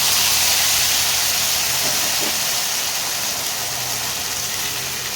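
Tomato paste from one large tomato frying in a hot pan for a Bengali potoler dum, a loud steady sizzle and hiss throughout, close and continuous with no talk.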